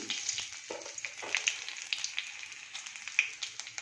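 Small shallots, green chilies and dried red chilies frying in oil in a pan make a soft, steady sizzle with scattered light crackles and pops, fairly close but quiet.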